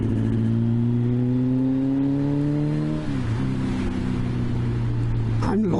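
Kawasaki ZXR750 H1 motorcycle ridden on a slippy wet road, engine droning loudly and steadily from close by, pitch rising then dropping as it shifts, with wind rush throughout.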